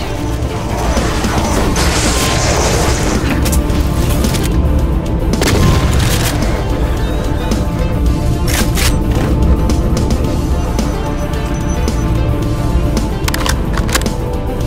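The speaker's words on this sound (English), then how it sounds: "I grab that weapon upgrade, but it will activate the crusher once you do." A crusher trap grinds into motion in the video game Final DOOM, a loud, continuous mechanical rumble with heavy booming impacts and clanks, steady throughout and dense with game noise.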